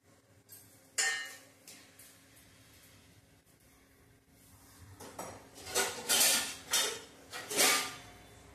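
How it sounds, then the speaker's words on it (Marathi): A lid set onto a cooking pot holding a sweet semolina dish, heard as a few clanking metallic knocks and clinks, one near the start and a louder cluster toward the end, with no one talking. "आता याच्यावरती मी झाकून ठेवून देते थोड्या वेळासाठी"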